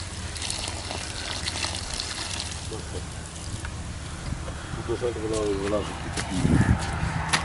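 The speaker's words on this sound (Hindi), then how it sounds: "तो अब हम इसको पानी लगाएंगे" Water pours from a container onto a newly planted lemongrass plant in garden soil, a steady splashing gush at moderate distance, growing a little louder near the end, over background outdoor noise.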